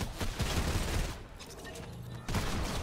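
Gunfire in the Fortnite video game, a dense fusillade of rapid shots pouring out loudly and continuously, dipping briefly before resuming, with no talk over it.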